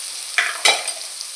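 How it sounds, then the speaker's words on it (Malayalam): Chicken masala mixture being sautéed in a pan, with soft sizzling and two brief scraping stirs of the spoon, close and alone with no voices. "ഇതൊക്കെ ഒന്ന് വഴണ്ട് വെക്കാം കേട്ടോ."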